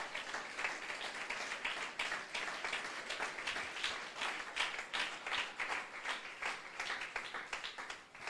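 A church congregation applauding together, dense sustained clapping at moderate volume that carries on steadily for several seconds.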